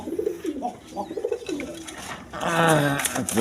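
Pigeons of various breeds coo in low, throaty, rolling pulses close by, several calls overlapping and growing louder toward the end, with a trace of background voices.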